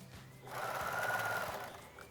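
A sewing machine topstitches a fabric facing to its seam allowance about 0.2 cm from the edge on a child's check-fabric sailor dress. It runs as one steady, fairly loud whir for just over a second, with no talk.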